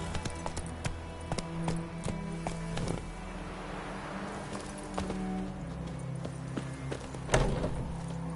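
Horse hooves clip-clop at a steady walking rhythm in The Witcher 3, close and moderately loud over a low ambient game soundscape, with a louder hoof thud near the end.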